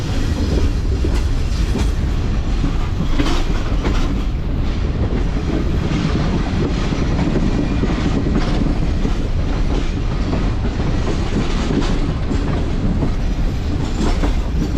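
The Karakoram Express rolls into the Rohri Junction station yard at night, wheels rumbling loud and constant with rhythmic clickety-clack over the rail joints, heard close from on board with no talk.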